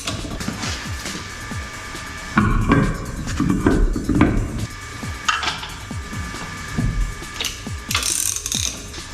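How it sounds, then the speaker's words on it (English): A hand ratchet tightens the brake drum retaining bolt on a VW T4 Syncro van, giving several bursts of rapid clicking close by, with metallic clanks between the strokes. "then you tightening this retaining bolt"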